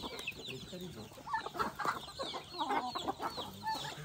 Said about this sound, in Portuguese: Olha essa galinha aqui também, ó.